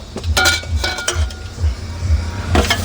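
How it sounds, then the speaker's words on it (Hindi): Onions stirred in oil with bay leaf, cumin and whole spices in a pan cooked inside a truck, giving rhythmic scraping clanks of a utensil against metal, loud and close, about five strokes. "प्याज को अच्छा से मिक्स कर लेते हैं। तो प्याज डाले हम लोग हल्का से, मतलब 1 मिनट तले।"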